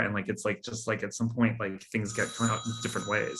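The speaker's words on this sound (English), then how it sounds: "So yeah, so that's a phone in the background." An old 1920s-style hotel telephone rings in the background, its bright, steady tone partly buried beneath a person talking continuously in the foreground.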